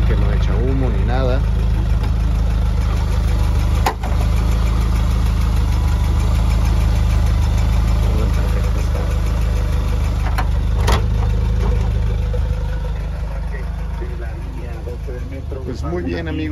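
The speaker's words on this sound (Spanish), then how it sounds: "Voy a acercar a la parte del motor para que lo escuchen." 1991 Volkswagen Caravelle van engine idling up close, a loud steady low rumble with a faint knocking texture running throughout, and a voice talking briefly over it.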